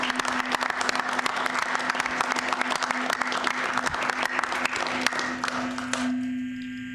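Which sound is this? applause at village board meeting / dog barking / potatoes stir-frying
applause at village board meeting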